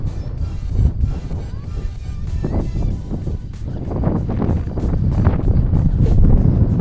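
Wind gusts buffet the microphone on a hike in the Cézallier near a lake, low rumbling blasts that swell and ease unevenly, growing stronger toward the end.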